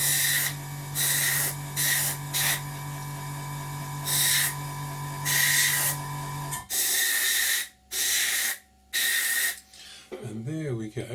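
White paint hisses from an airbrush onto an Academy F-16I Sufa model kit, coming in repeated close bursts of about a second each under a steady background hum, then a few longer sprays.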